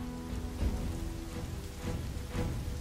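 Rain falls in the video game Dynasty Warriors 8, a soft continuous patter with faint low rumbling underneath, heard alone at a quiet level.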